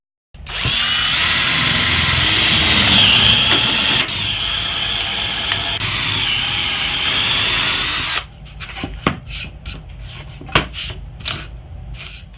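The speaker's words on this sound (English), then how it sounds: "I took the Forstner bit and made my holes, and I drilled all the way through it." A power drill with a Forstner bit whines loudly and steadily as it bores through wood for a homemade palm router table, changes pitch partway, then stops, leaving scattered knocks and clatter.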